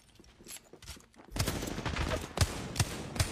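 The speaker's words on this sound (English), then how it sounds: "Another team shooting me in the back right now." Rapid bursts of automatic gunfire from an online shooter video game crack out, with sharp louder shots punctuating a dense stream of firing after a brief quieter stretch.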